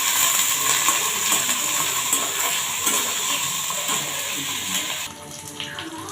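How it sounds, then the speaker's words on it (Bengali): Onions sizzling in hot oil with cumin, ginger pieces, garlic cloves and two dried chillies, a steady bright hiss with occasional stirring scrapes that quietens near the end, with no voices. "পেঁয়াজটা দিয়ে ভেজে নিচ্ছি।"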